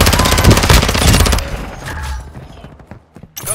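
Gunfire in the game Call of Duty: Modern Warfare II, a loud rapid automatic burst lasting over a second, then scattered lighter shots and clatter fading out, with a final sharp crack.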